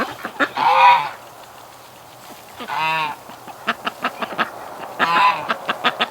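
Geese wintering with ducks in a backyard honk in loud, close, nasal bursts, a few long calls spaced apart, followed by a quick run of short clipped honks near the end.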